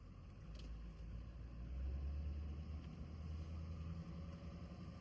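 An LBZ Duramax diesel pickup truck pulls away with a low, steady engine rumble heard from inside the cab, moderately quiet and swelling slightly as it gets moving.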